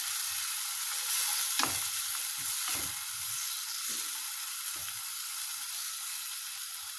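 Chicken liver with soy sauce sizzling steadily in a frying pan while being stirred, with soft scraping knocks of the utensil against the pan at intervals, close and continuous.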